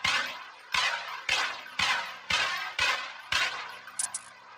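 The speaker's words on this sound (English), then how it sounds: "And just like that, you have fired your handgun." Handgun fired repeatedly in the video game Project Ordinance during security training: six sharp, loud shots at a steady pace of roughly one every half second, each with a short ringing tail, followed by a faint metallic clink.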